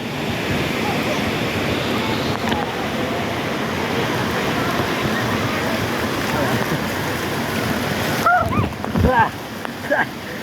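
Loud rushing and splashing water on a Great Wolf Lodge water park ride, close and continuous, with voices breaking through near the end.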